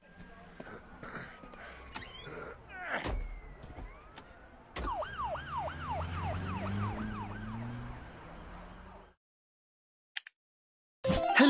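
A police car siren wails loudly in repeated rising and falling sweeps, with scattered clicks and thumps around it. It cuts off into near silence, then a brief burst of noise comes at the end.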